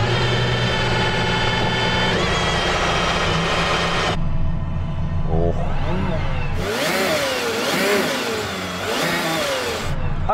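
An Aston Martin Valkyrie's engine fires up and idles with a steady hum before being revved in several sharp, loud blips that rise and fall. A person speaks briefly over it.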